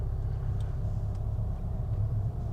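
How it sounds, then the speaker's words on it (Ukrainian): A Volkswagen Jetta GLI mk6 with a non-stock aftermarket exhaust gives off a steady, soft, low rumble heard from inside the cabin while driving, even and continuous throughout. "А тут прям доволі приємно легенько буркотить вихоп, тому що він вже не сток."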